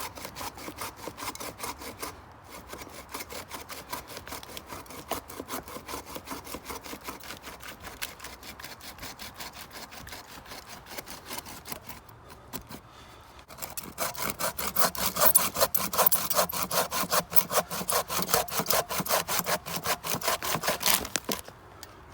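Small folding hand saw, Gerber versus Bahco, cutting wood with steady back-and-forth rasping strokes, moderately close, growing louder and faster in the final third with no talking.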